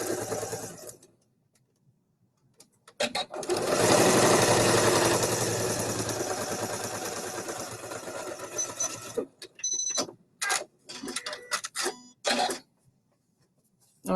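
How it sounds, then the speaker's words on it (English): Sewing machine stitching a pocket facing to the top pocket of a double welt pocket: a loud, steady motor whir for about six seconds, followed by short bursts and clicks as it stops and starts. "I sewed my facing to my top pocket."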